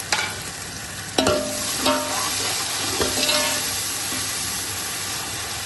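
Two tomatoes and whole green chillies sizzle in a pot, with a loud, continuous frying hiss and several sharp utensil knocks and scrapes against the metal.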